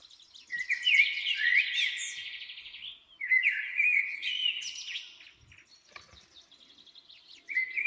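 Outdoor springtime nightingale song: two long, loud, rich trilling phrases, fairly close, then a quieter stretch of scattered clicks and chips before a new phrase starts.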